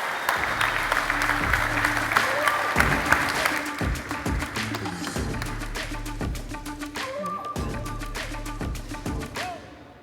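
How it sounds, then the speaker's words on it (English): Audience at a React tech conference applauding a speaker as she takes the stage, a moderately loud, steady burst of clapping that holds for about ten seconds and slowly thins toward the end. "Give her a round of applause"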